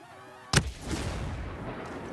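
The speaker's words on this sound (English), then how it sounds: "Second grenade going deeper." A grenade detonates during a tactical team operation: a single sharp, loud blast that cuts through a quiet background, then a lingering wash of rumbling noise for well over a second.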